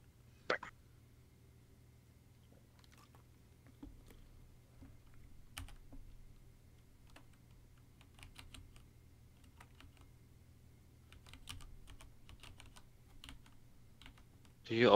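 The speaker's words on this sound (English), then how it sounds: "Do you always angrily type?" Keyboard typing during an online game session, a steady run of quick, light key clicks throughout over a low background hum, with a louder thump near the start and another at the very end.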